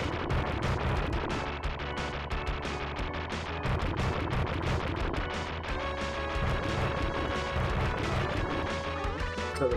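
Dense, loud barrage of booming bomb blasts and crashing impacts from the arcade shoot-'em-up UN Squadron, continuous and layered over game music throughout.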